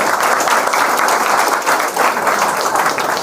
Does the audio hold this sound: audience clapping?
yes